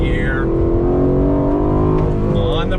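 A 2019 Aston Martin Vantage sports car accelerating hard on throttle, a loud continuous engine roar with rising harmonics heard from inside the cabin, steady and close throughout.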